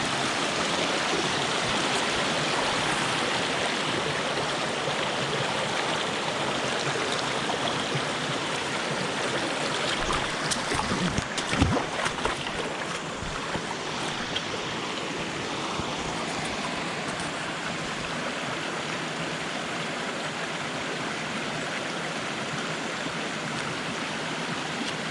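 Steady broadband rush of a river flowing over big rocks near Sungai Pandan Waterfall, continuous and close, with a brief clatter of nearby movement midway.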